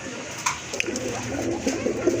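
Pigeons at a pigeon sale coo in short, soft bursts, a few close calls spread across a low murmur of background noise.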